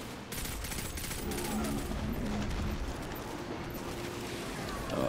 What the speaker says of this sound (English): Oh god, he's gonna shoot me.